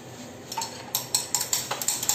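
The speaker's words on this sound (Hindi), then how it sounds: "वापस मिक्स कर रहे हैं" Liquid detergent being mixed after Rdpol T-200 liquid thickener is added, giving a run of close, sharp clinks and taps of a stirring tool against the container, roughly evenly spaced, with no voices.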